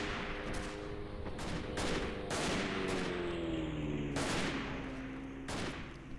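Rapid gunfire from a rifle in the First World War shooter Verdun, a dense run of sharp cracks repeating through the whole stretch over a steady droning battle bed, with bursts of louder shots rising above the din.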